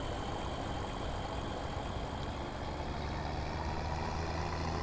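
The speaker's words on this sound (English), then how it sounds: "I like hearing this tractor." A steady, low tractor engine idle from Farming Simulator 17 rumbles continuously at an even level, with no voices present.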